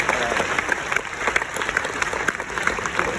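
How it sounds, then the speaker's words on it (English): Audience applause at a comedy hypnosis stage show, a dense crowd clapping steadily for a few seconds with sharp individual claps standing out, fairly close and loud. "let's give them all a big round of applause."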